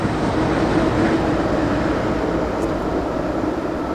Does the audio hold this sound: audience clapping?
no